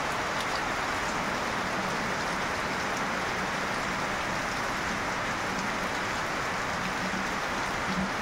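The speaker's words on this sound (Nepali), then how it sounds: "मजाले पानी परेको छ" Steady rain pours down in Nepal, a dense even hiss of drops on surfaces, moderately faint and continuous with no voices.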